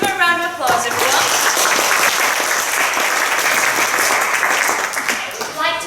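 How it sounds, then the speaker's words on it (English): A children's stage show audience applauds a young girl volunteer, a sustained wash of clapping that rises after a brief voice at the start and fades near the end. "Let's give her a round of applause, everyone."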